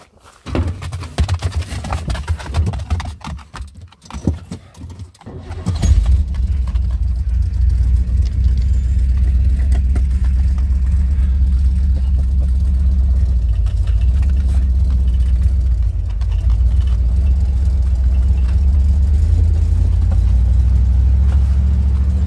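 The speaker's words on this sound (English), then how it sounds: "the Jeep is fixed and we can go for a drive" A repaired Jeep idles and drives steadily with a loud, continuous low engine drone, preceded by a few seconds of clattering, rustling handling noise.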